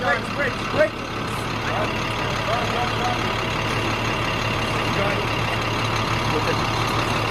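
Truck engine running steadily at a yard where imported Japanese cars are unloaded from shipping containers, a constant close rumbling drone throughout with a couple of brief knocks near the start and voices talking over it.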